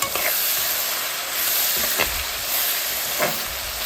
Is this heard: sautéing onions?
yes